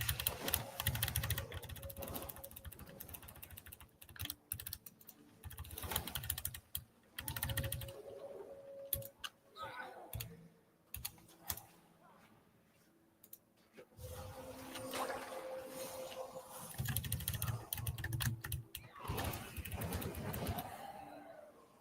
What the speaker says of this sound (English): this keyboard is a little bit louder than the other one I've been using, because this one's the new one Razer sent me